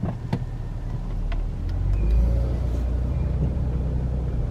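A Chevrolet Impala 9C1 pulls away after a smooth gear shift, its engine a steady low rumble that swells slightly as it gathers speed, heard from inside the car with a few light knocks early on.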